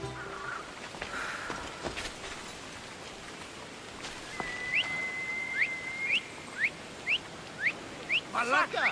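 Whistling in the video game Assassin's Creed Odyssey: a sustained whistled tone gives way to a run of short rising whistle chirps at a steady pace, over a faint rain-like ambient wash.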